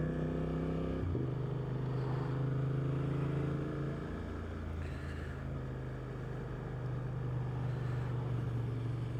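A Suzuki GSX-8R motorcycle hums steadily while being ridden, its engine note dipping briefly, then holding a smooth, fairly quiet drone under wind noise.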